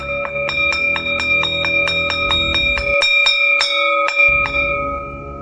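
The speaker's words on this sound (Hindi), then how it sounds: "क्लास रे घंटा न्यूरना" A school class bell rings in a Santali comedy cartoon, a rapid series of bright metallic strikes with a sustained ringing tone, loud and close, carrying on for about five seconds before trailing off.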